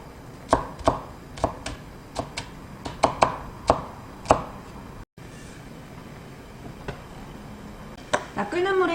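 A knife rapidly minces green onion and other vegetables on a cutting board while prepping shrimp fried rice, about a dozen crisp, close chops in an uneven rhythm before the cutting stops and quieter kitchen sounds follow.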